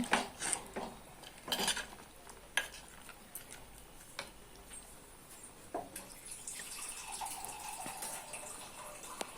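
Metal spoon scrapes and knocks against a pot of silver fish curry in irregular stirring strokes, with a few louder clanks and some watery sloshing.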